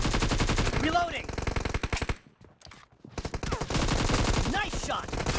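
Rapid automatic AKM rifle fire in a team deathmatch video game, loud bursts of many shots, a short pause near the middle, then sustained firing again.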